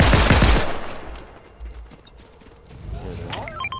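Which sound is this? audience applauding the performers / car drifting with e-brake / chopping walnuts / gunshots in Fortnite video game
gunshots in Fortnite video game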